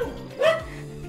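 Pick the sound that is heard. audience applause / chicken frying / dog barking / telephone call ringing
dog barking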